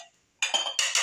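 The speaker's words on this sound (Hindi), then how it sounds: "दोपहर के खाने के बर्तन थे" Lunch dishes, metal pots and utensils are handled and stacked in a home kitchen, sharp clattering clinks in two or three close bursts after a brief quiet moment.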